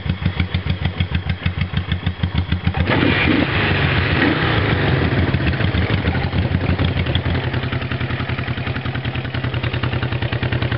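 A 1973 Honda CB360T and a 1971 Honda CB350 twin idle side by side, a close, loud pulsing putter that thickens as the second engine joins and both run together.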